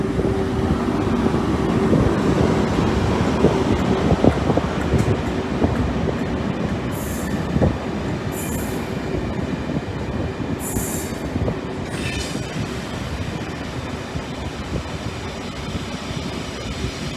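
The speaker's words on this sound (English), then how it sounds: "Train now approaching platform 3 is not stopped here." A Network Rail service train runs past a station platform, a loud steady rumble of wheels and carriages with clattering joints and brief high squeals from the wheels, sustained throughout with no talk.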